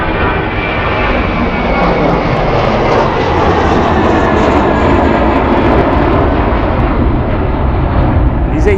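Jet engines of an airliner, likely an Airbus, roar loudly and continuously near the runway at Charlotte Douglas Airport, holding a broad, even wash of noise throughout.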